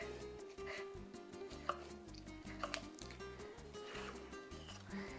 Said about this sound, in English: I'm just gonna start dicing